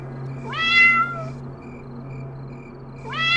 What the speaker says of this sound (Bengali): দেখ, আমাদের বাইরে যাওয়ার জন্য বিড়ালটা ডাকছে।